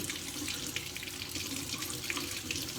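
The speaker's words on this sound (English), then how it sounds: "I'm just starting the water in my sink" Water runs steadily from a sink tap, a constant hissing splash with no break and no talking.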